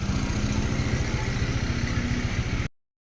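A motorcycle engine runs at a steady idle close by, an even low rumbling putter with a rhythmic pulse, alone, cutting off abruptly near the end.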